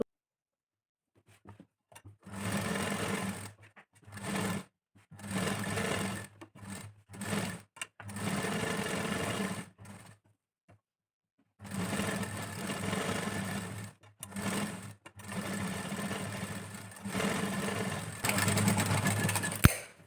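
Sewing machine stitching the parts of a 32-chest princess cut blouse, running in repeated bursts of a few seconds each with short pauses between, fairly close and steady, with no talking.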